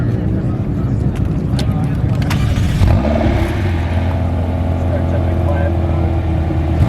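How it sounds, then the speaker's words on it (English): A McLaren sports car with active exhaust revs at an outdoor cars and coffee meet in Scottsdale, a burst of engine roar that rises then settles into a steady idle drone, close by with people talking over it. "I'll show you this car has active exhaust."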